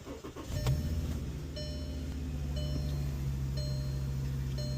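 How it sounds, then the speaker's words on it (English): A Volkswagen car starts with a newly copied flip key, a short cranking burst followed by a steady low engine idle that continues, close by and alone. "Car starts."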